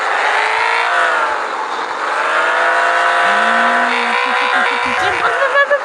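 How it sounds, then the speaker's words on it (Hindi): A car in a driving simulator video game accelerates, its engine droning loudly and continuously as the revs climb, with a brief nitro-like rise and tire sounds near the end; someone talks over parts of it. "चलिए गाइस अब पीछे करके ना इस गाड़ी को ना जल्दी से खींचते हैं"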